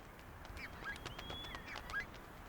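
Several geese honk in short, excited bursts defending their goslings from an owl, some calls overlapping, heard close and fairly clear against quiet background noise.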